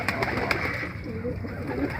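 A flock of about a hundred pigeons cooing at a loft, soft throaty burbling murmurs layered over steady ambient noise with a few sharp taps, fairly close.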